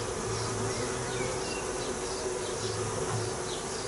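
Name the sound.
swarm of honey bees buzzing on hive frames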